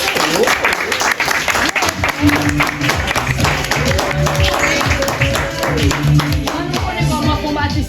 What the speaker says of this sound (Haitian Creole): c'est on nous applaudit non